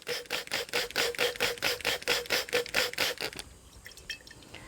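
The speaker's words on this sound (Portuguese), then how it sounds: "eu tenho segurança de pôr mais água" Water is poured into a herbal tincture, a steady run of rapid, rhythmic splashing pulses that fill the first three and a half seconds, then stop and leave faint handling noise.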